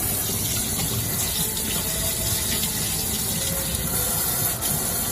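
Tap water runs steadily over a metal can top to rinse off soap, a continuous, fairly close splashing wash with no pauses.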